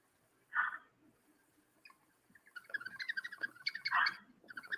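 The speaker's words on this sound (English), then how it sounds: "when you pour your wine out of this wine stopper, the bird whistles" A bird-shaped wine stopper whistling as wine is poured, a short chirp followed after a pause by a run of quick warbling trills, faint and close, with soft pouring and handling noise.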